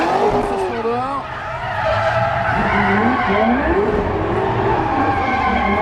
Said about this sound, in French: La puissance démentielle des voitures de Lars Verbraeken et de Raymond Nizain